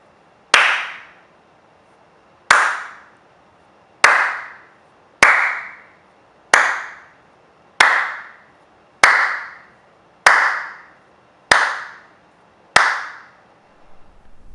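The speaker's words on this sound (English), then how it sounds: "So now I'm going to clap a few times." Ten sharp hand claps spaced about a second apart, each followed by a long ringing echo tail in a reverberant, untreated home theater room, loud and alone with no talking.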